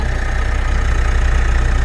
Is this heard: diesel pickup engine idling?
yes